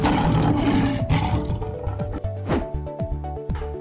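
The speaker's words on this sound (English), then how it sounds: "The lion roars." Lion roaring, a loud, rough roar at the start that fades as a rhythmic children's song with a steady beat carries on underneath.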